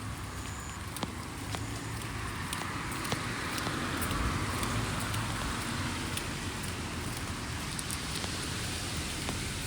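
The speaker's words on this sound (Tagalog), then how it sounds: "Umuulan." Steady rain falls outdoors on a dark, rainy day, a dense even hiss with scattered sharp drips and taps on nearby surfaces, continuous throughout with no talking.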